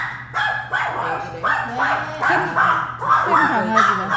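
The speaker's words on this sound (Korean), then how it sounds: "이 시간대 되면 저 큰 강아지가 지나가요" A big dog barks repeatedly while walking past, loud, near yaps and bow-wows in an uneven rhythm, with a steady low hum underneath.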